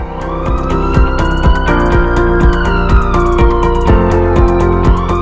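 An ambulance siren wails loud and continuous, its rising and falling tone layered over steady rhythmic percussive hits, like a jingle for a multi-specialty hospital in Pathankot.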